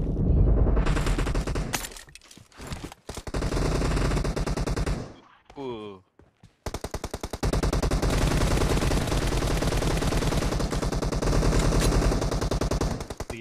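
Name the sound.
gunfire in the video game BGMI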